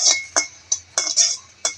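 Metal clinks and taps from a pan as the lid is lifted and green chillies frying inside are stirred, six short sharp knocks spaced unevenly over quiet.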